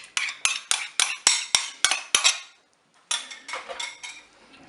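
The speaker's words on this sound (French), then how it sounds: "On mélange bien sûr." A spoon stirs an egg, lemon and crème fraîche mixture in a Cookeo multicooker on browning mode for blanquette, giving a rapid run of sharp metallic scrapes and clinks, then a brief pause and softer, quicker scraping.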